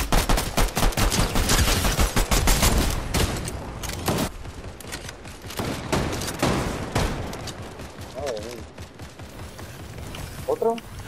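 Dense rapid gunfire from the video game Fortnite, continuous automatic bursts and shots under players talking in Spanish, loud throughout with brief sharper peaks near the end.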